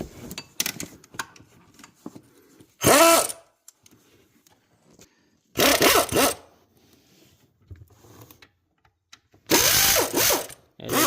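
Alternator mounting bolts being loosened on a 2004 Ford Expedition, heard as three loud bursts of ratcheting power-tool noise separated by quiet stretches with faint handling sounds.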